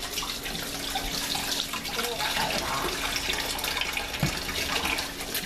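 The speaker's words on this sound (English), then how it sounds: "I'm gonna wash my hands with soap and water." A tap runs steadily as hands are washed with soap and water at a sink, a rushing splashing stream with small shifts and a brief clunk near the end, while a voice talks over it.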